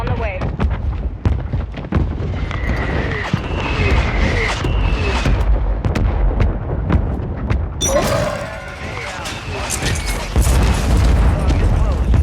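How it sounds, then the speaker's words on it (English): Mortar strike explosions in the video game Warzone 3 boom and rumble repeatedly over a dense battle soundscape, with sharp gunshot-like cracks scattered throughout and a louder burst of blasts near the end. "Mortar strike on the way."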